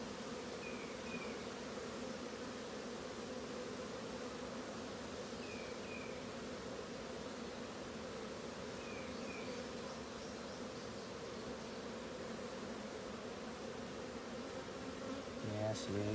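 Honey bees drone steadily inside a crowded hive, a thick, even buzz held close for a long stretch, with a brief bump of handling noise near the end.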